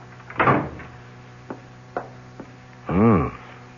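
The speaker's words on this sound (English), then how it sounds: "No, but come in and close the door." An office door swings shut in an old-time radio mystery drama, with a loud thump near the start, a few light knocks and clicks, then a short rising creak or scrape toward the end.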